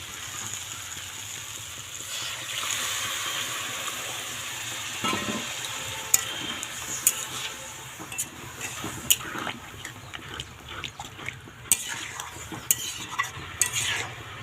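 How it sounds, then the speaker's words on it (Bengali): Hot water poured into a pan of frying banana-flower curry (mochar ghonto), giving a steady hiss and sizzle with intermittent sharp clinks of a stirring spoon, close by. "এই জলটা আমি দিয়ে দেবো"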